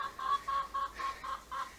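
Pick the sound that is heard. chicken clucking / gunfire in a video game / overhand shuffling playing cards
chicken clucking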